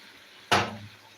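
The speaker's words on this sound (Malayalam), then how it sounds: "ഇതാ വെള്ളം ഒന്ന് ഒഴിച്ചു കൊടുത്തിട്ടുണ്ട്" Water poured into a hot pan of masala makes one sudden splashing hiss that fades away within about half a second.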